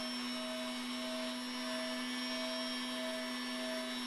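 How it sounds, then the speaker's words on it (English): Pendant motor with a saw blade cutting a wire coil into jump rings, a steady faint whine with a constant tonal hum, unbroken and even throughout, no talking. "And then cut them with the blade attached to your pendant motor."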